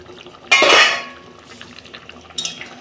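A lid comes off a pot of simmering fish curry with cauliflower and potato, one sharp metallic clatter followed by a softer scrape and a faint second clink.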